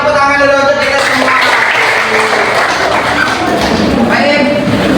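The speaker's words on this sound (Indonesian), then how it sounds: "Kita tepuk tangan dulu untuk kita semua." A classroom group claps together in dense, lively applause that stays loud for several seconds, with voices mixed in.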